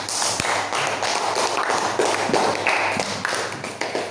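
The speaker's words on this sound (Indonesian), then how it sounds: "Tepuk tangan untuk Afifah" Children in a classroom lesson on telling time clap together for a classmate: a dense, steady patter of many small hands, close and fairly loud, continuing evenly for several seconds with no talk.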